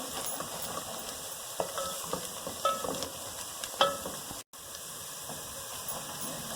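Onions fry for mutton biryani in a steady background sizzle and hiss, with occasional clinks and scrapes of a spoon stirring the pan.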